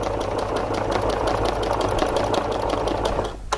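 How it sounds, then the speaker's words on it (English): A Janome MC 11000 sewing machine stitches a quarter-inch seam along fabric guided by a ruler, giving a fast, even mechanical whir with rapid repeating clicks that stop abruptly near the end. "I can stitch down here"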